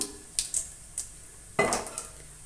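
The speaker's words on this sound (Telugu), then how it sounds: "ఇప్పుడైతే ఆనియన్స్ వేసేసుకుందాం" Chopped onions dropped into a hot pan for chicken curry, a few clinking metal utensil taps against the pan followed by a short burst of sizzling, close and fairly quiet.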